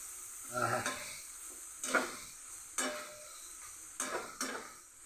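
Cumin and mustard seeds fry in hot oil, quiet overall, with about five short bursts of crackling sizzle and stirring against the pan separated by softer hiss, close and with no voices.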